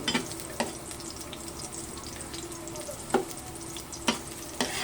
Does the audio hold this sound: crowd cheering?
no